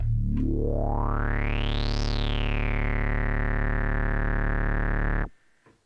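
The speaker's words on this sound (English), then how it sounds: "This is the MiniMoog." A sustained Minimoog Model D analog synth tone with a filter sweep rising for two seconds, then easing down and holding steady before cutting off abruptly.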